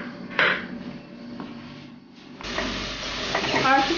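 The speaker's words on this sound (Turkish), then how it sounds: "Soğanlar şu anda kavruluyor." Onions frying in a pan for a Turkish dough-wrapped kebab, giving a brief sizzle and then a louder burst of crackling as they are stirred, with utensils knocking against the pan.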